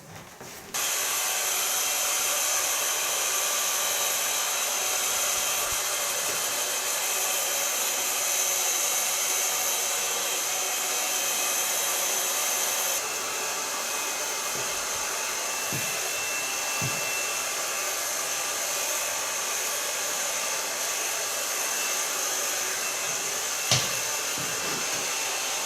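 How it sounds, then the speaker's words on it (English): A hair dryer blows continuously up close while hair is dried with a medium brush, a steady loud airflow whine with a slight drop in pitch midway and faint brushing rubs. "Start blow drying with a medium brush."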